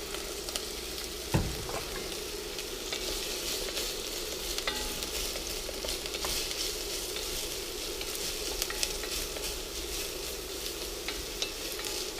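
Turkey chili ingredients fry in olive oil in a cast iron pan on an induction cooktop, with a steady close sizzle throughout and an occasional scrape or knock of stirring.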